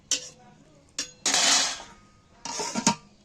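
A spoon stirs salted long-grain rice in a metal cooking pot, close by, in several short bursts of scraping and clinking separated by brief pauses.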